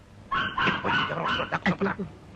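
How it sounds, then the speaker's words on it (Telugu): A dog barks and yips several times in quick, uneven bursts, close by and fairly loud. "జిమ్మీ ఎందుకు అరుస్తుంది?"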